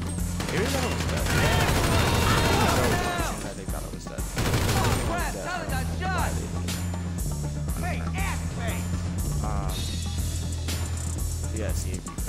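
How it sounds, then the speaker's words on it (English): Rapid bursts of gunfire during a GTA shootout, with sharp shots crackling over a heavy, droning in-game music bed and loud impacts throughout. "I guess they just don't hear gunshots, because I've been shooting"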